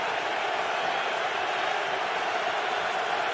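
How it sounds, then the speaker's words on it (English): A packed football stadium crowd at a Cardinals–Giants Sunday night game roars steadily to urge on the defense, a broad, even, distant wash of cheering with no breaks. "Crowd exhorting the defense."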